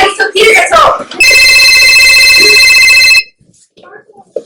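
A cell phone rings at a gathering for a surprise party, a steady electronic ringtone of layered tones sounding for about two seconds after excited voices, then cutting off before a brief quiet remark.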